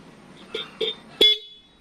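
The stock horn of a Yamaha NMAX v2 scooter gives three short beeps in quick succession, the last one loudest, close by with nothing else around.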